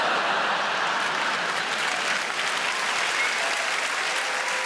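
A comedy show audience breaks into steady, dense applause that fills the whole stretch evenly, with no voices over it.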